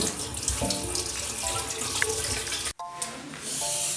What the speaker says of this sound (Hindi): हमने मूलियों को धो लिया